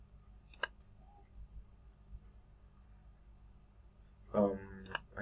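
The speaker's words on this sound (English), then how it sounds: "I have to click on here, hit enter." A few sharp mouse clicks at a computer, isolated and close, separated by quiet pauses, with a louder burst near the end.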